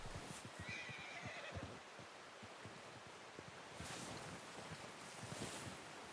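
In Red Dead Redemption 2, a horse whinnies faintly at the start, then hooves clop softly against a windy, washing outdoor ambience with no talking.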